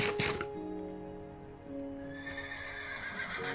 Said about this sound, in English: Shut the fuck up, horse.